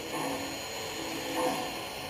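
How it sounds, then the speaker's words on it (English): An MTH Premier Dreyfuss Hudson model train arrives with a steady whirring rail hum that swells briefly near the end, close and moderately loud, with no talk. "Now arriving from New York, train number 25, the 20th Century Limited."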